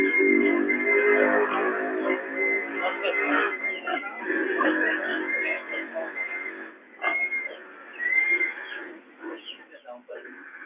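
Pig-like oinks and grunts come in short bursts, mixed with voices that seem to imitate the animal, sounding thin and narrowband.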